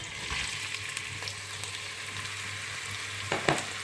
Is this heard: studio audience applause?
no